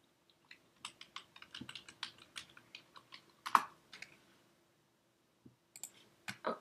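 Someone types on a computer keyboard, a close, quiet run of irregular key clicks in quick bursts, pausing briefly before a few final taps.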